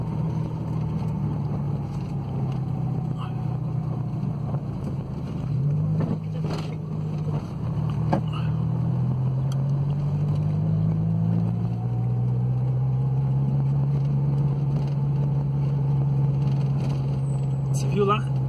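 A small, powerful car drives along a road with its windows caked in dirt, its engine holding a steady drone that rises and falls in pitch from inside the cabin, with faint voices now and then.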